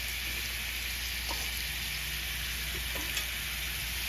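Beef short ribs fry in a hot pan with a steady, dense sizzle that holds evenly throughout, broken by a few faint pops and clicks, close and fairly loud with no talking.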